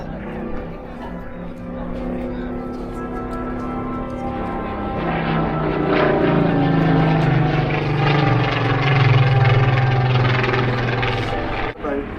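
A propeller aircraft drones overhead at the Eastbourne Airshow, its engine hum swelling louder and nearer through the middle before easing, with a voice talking over it.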